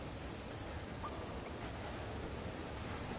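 Rushing water roars in a factory in the video game Limbo, a steady, broad wall of noise that fills the moment with no breaks or speech.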